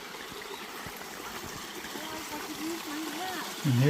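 A small creek with a little waterfall runs in a steady, soft wash along a trail near Kennedy Meadows on the Pacific Crest Trail, with brushing movement at the end.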